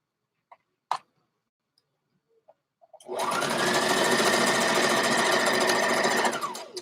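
After a few faint clicks and handling taps, a sewing machine starts and runs steadily for about four seconds, stitching knit fabric pulled taut, close and loud, then slows to a stop.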